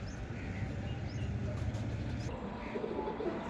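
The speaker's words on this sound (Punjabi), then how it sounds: "ਇੱਕਦਮ ਵਾਈਟ ਨੋਕ ਦਾ ਕਬੂਤਰ ਹੈ" Soft, low pigeon cooing repeats steadily against a constant background hum, with no voices present.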